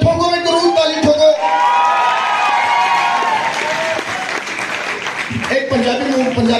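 A college audience at a mimicry performance breaks into loud, sustained applause with cheers and whoops, while voices speak over the clapping near the start and end.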